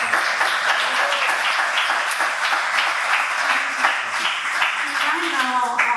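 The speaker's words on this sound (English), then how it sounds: "Please give a round of applause to Alex." A crowd applauding steadily, dense clapping throughout, with a voice and some cheering emerging near the end.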